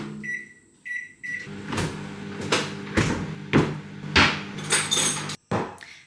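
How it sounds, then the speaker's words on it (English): Microwave oven in a home kitchen, used to defrost frozen strawberries: a few short electronic beeps, then a series of loud knocks and clunks from handling close by, with no talking. "I'm just gonna microwave them."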